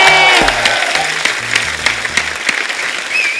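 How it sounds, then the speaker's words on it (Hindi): Loud studio audience applause from a television comedy show, a dense wash of many hands clapping together and filling the room, with a few sharp individual claps standing out and a voice speaking faintly underneath. "जोरदार ताली हो जाए।"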